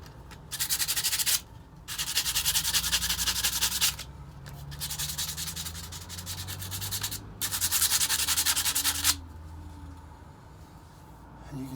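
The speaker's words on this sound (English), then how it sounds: "grab a nice little piece of 80 grit aluminum oxide sandpaper" 80 grit aluminum oxide sandpaper scouring rusty old mild steel, in three loud, close bursts of rapid back-and-forth rubbing split by brief pauses, with a quieter scratchy stretch in the middle and a softer tail at the end.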